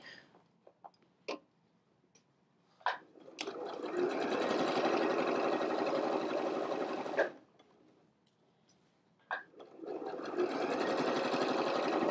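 A sewing machine stitching a straight seam on a pillowcase, running in two long steady bursts of rapid close whirring, separated by brief pauses with faint clicks and handling sounds.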